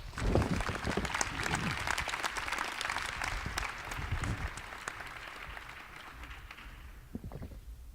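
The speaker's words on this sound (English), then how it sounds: "Please join me in giving them a round of applause" A room full of community summit attendees claps for a panel, a sustained round of applause that gradually thins and fades out toward the end.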